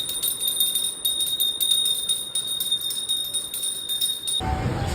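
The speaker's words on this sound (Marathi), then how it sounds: "घंटी वाजव." A puja bell rung at a home shrine during Guru Purnima worship, giving a steady high metallic ringing that continues for several seconds before cutting off, with a low rumble at the very end.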